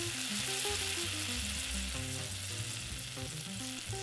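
Chuck roast searing in a pan with onions and potatoes for a brown sauce: a dense, continuous close sizzle and crackle with a low, uneven pulsing beneath, no voices.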